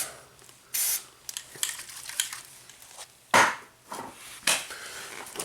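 Fluid Film rust protection sprayed onto the rear subframe of a Ford Contour, Mercury Mystique or Focus comes in several short hissing aerosol bursts, separated by faint clicks and light handling noises.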